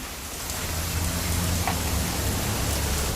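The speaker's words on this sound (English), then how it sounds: "It's gonna rain the whole weekend," Steady rain pours as a dense, continuous hiss in the video game What Remains of Edith Finch, fairly loud throughout, with a faint low rumble underneath.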